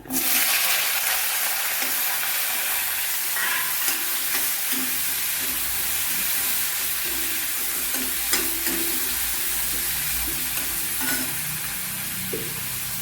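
Halved small shallots frying in hot oil in a pan for varutharacha theeyal make a continuous bright sizzle with occasional scraping and stirring clatter, close and steady throughout with no talking.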